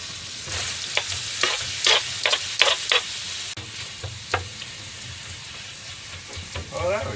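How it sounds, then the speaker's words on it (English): Chopped spring onions and mushrooms fry in a pan in a boat galley, giving a steady close sizzle punctuated by several sharp stirring scrapes and taps of a utensil against the pan. "we just let that fry up for a while"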